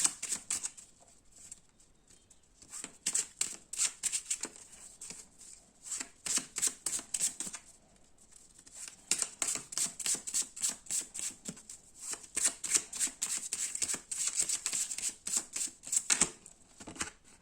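Tarot cards are shuffled and handled for a reading, producing rapid bursts of crisp riffling and flicking near the microphone, in repeated runs separated by brief pauses.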